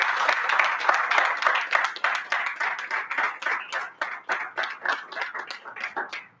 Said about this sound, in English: Please give us a hand of applause.